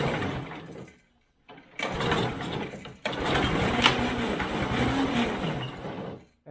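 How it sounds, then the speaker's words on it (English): An old abandoned go-kart's small engine revs on throttle with a fuel problem, a rough, loud, uneven running sound that cuts out briefly and then comes back in surges, nearby, with no talking. "I'm going to put a little bit of throttle on it."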